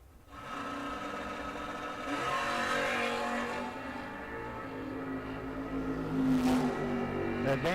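Drag race cars, an early second-generation Camaro against a 1967 Chevy II, roar at a door car event, engines droning and building steadily with a sharp rising burst near the end, heard from a moderate distance.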